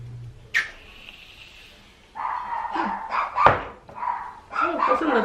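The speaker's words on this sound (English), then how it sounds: "the dogs are gonna go crazy because the garage just went up" Dogs bark and yip excitedly indoors after a garage door goes up, a sharp yelp followed by a run of barks of varying pitch, fairly close, over quiet room tone.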